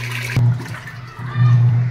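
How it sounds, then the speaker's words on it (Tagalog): A washing machine fills with water from a household supply in Imus, Cavite, a loud close gush over a low motor hum, swelling and easing in short surges. "So hintayin ko lang maabot yung water level na nakaset."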